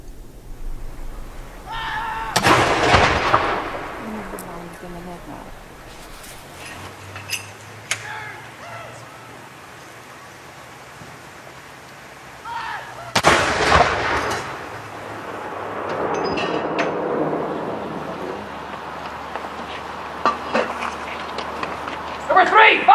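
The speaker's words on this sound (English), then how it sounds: "One round being fired every 10 seconds or so." Artillery guns firing a 96-round salute for Queen Elizabeth II, two loud booming shots about ten seconds apart, each followed by a long rolling echo, with people talking between them.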